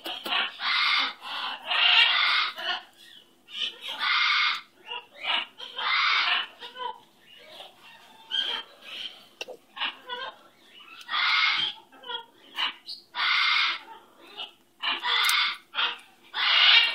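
A pet bird chirps and squawks in repeated short bursts, loud and close, with brief pauses between calls and occasional quieter chatter in the gaps.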